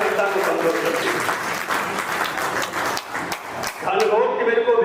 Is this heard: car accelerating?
no